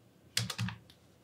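A quick, quiet run of about four or five keystrokes on a computer keyboard while entering a model name, soft clicks with no talk.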